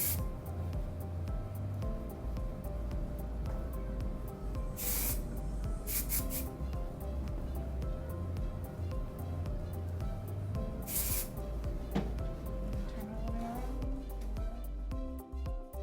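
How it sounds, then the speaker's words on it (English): A can of dry texturizing hair spray hisses steadily and close by for a long stretch while hair is being styled into vertical curls. A few sharper bursts of spray cut through now and then. "complete it with our full effect, which is our dry texturizing spray"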